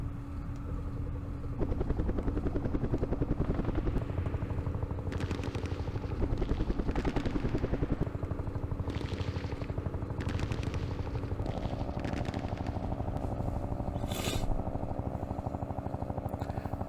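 Helicopters in the Vietnam war game Campaign Series Vietnam thrum with a steady rotor drone, joined by bursts of gunfire and impacts from combat, all fairly quiet and continuous.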